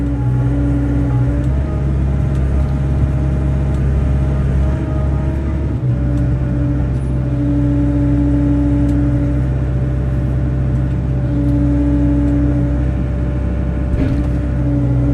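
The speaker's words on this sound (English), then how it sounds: "That's full throttle right there." A Rotobec Limb Reaper machine's engine runs at full throttle with a loud, steady droning rumble and a sustained tonal whine that wavers slightly, holding constant without any speech.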